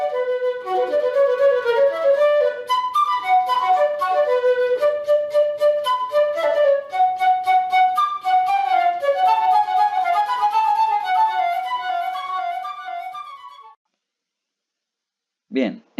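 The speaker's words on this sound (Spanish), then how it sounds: "El más claro ejemplo de los aerófonos de bisel es la flauta traversa y suena así." A transverse flute plays a flowing melody of clear sustained and detached notes, loud and up close, for about fourteen seconds before falling silent.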